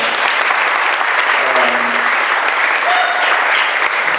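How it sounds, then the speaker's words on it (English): Loud, dense applause from a forum audience at a mayor's talk, a continuous roar of clapping lasting several seconds, with brief faint tones and voices underneath. "Let's give her a round of applause."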